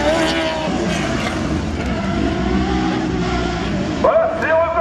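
Slalom race car driving the course at the Neufbourg slalom, a steady engine drone with rising and falling pitch as it works through the course, heard under French commentary.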